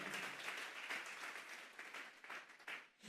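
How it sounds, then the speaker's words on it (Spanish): Church congregation at a Sunday service clapping together as an offering to God, a steady wash of applause heard from some distance, fairly faint and uneven, fading toward the end. "Vamos a darle una ofrenda de palmas a Dios en esta hora"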